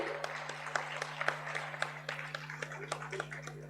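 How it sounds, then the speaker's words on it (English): Audience applause at an award ceremony, a scattered run of claps spread across the room, moderately loud over a steady low hum, with no voices on top. "May we have a huge round of applause"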